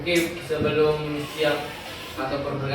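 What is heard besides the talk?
None of the usual background noises is heard.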